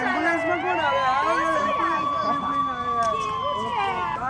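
An ambulance siren wails with a sustained, sweeping tone across the whole stretch, with voices talking over it.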